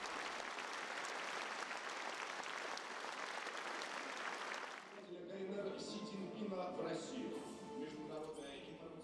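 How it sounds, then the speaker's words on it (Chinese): Warm, sustained applause from a large ceremony audience marking the 70th anniversary of China-Russia diplomatic ties, following speeches by the two heads of state; dense clapping for about five seconds, then shifting to a quieter mixed crowd sound with some voices. "全场对中俄两国元首的讲话报以热烈的掌声"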